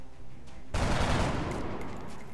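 Gunfire in the XCOM: Enemy Within video game starts abruptly as a loud, dense burst of rapid shots and keeps rattling until the end.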